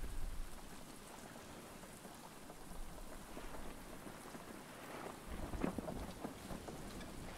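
Steady rain falls in the survival video game Stranded Deep, a constant hiss of drops on surfaces with occasional heavier spatters, continuous and fairly loud throughout with no talking.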